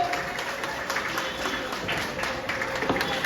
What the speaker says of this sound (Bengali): একটু করতালি সহযোগে সম্বর্ধনা দেওয়া হোক।